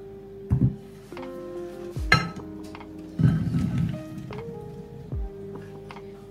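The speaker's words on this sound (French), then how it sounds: "je vais prendre les courgettes pour les mettre dans un plat" Courgettes set into a baking dish for a spiced courgette gratin: a few separate clinks and knocks on the dish at irregular intervals, fairly close, over a steady low kitchen hum.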